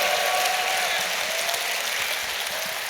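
Audience at EVE Fanfest, the opening ceremony of a gaming convention, cheering and applauding in a large hall; a steady, dense wash of clapping and crowd noise continues at even loudness throughout.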